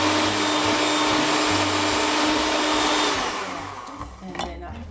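An electric mixer beating eggs with sugar for a pumpkin almond pie, a loud steady whirring buzz that runs continuously, then winds down and stops near the end with a few light clatters.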